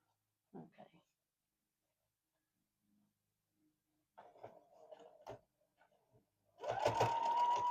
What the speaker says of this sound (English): Let's do just a straight stitch.